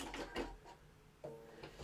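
A sewing machine back stitches while making a tray pouch, with short bursts of close mechanical whirring separated by a brief pause, quiet and with no voices.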